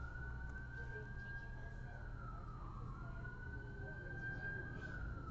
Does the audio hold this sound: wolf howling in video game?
no